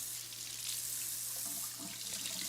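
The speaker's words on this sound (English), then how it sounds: "You rinse it." Tap water runs steadily into a sink as something is rinsed under it, a constant close hiss of flowing water with slight splashing changes, no talking.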